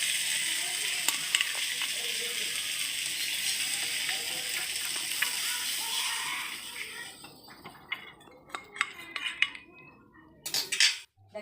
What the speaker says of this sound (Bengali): মাছটা সুন্দর করে লাল লাল করে ভেজে নিচ্ছি।